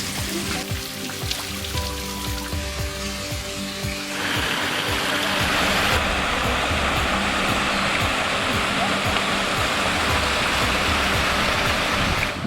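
Water pours over rock formations at Maleny Botanic Gardens, a steady rushing hiss that grows fuller and louder partway through, with some talking audible over it early on.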